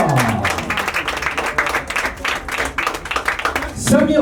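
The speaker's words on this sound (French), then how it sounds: "on peut l'applaudir" An audience at a combat-sports weigh-in claps and applauds a fighter, dense rapid clapping from a crowd under a loud announcer's voice throughout.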